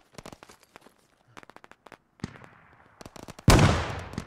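Fireworks go off in the military shooter Squad as a rapid string of sharp cracks and pops, then a sudden loud burst that crackles and fades. The sound is close, with no voices.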